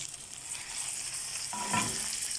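Ground spices, cinnamon, bay leaf and tomato fry in a hot pan with a steady, close sizzle, swelling into a louder crackle and stir as the tomato goes in partway through.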